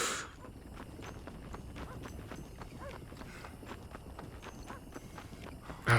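Horse hooves clip-clop steadily in the Red Dead Redemption video game, a continuous rhythmic patter of hoofbeats over a dense background of game noise with no speech.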